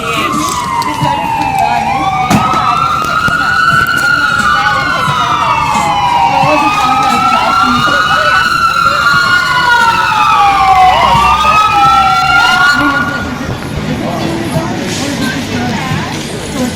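An emergency siren wails in long rising and falling sweeps, loud and steady as it passes along a street, then fades and cuts off near the end, with traffic noise and a voice in the background.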